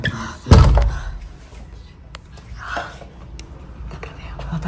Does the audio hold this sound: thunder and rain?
no